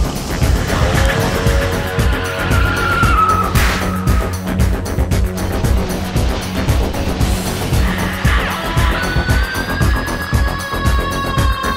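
One car skids with squealing tires while running another car off the road at night near Scottsburg, Indiana, engine roar loud and close throughout, tire squeals rising and falling.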